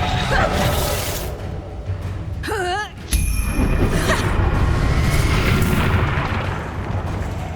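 A Reducto blasting spell explosion in Hogwarts Legacy, a loud booming burst with a long rumbling wash of debris and noise, briefly interrupted by a whooshing magical warble before the blast surges back.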